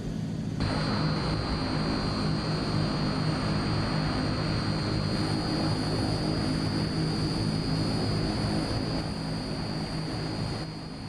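A fixed-wing aircraft in Microsoft Flight Simulator 2020 begins its takeoff roll with flaps set to 10, giving a loud, steady engine and propeller roar with a constant high whine that holds throughout, no talking.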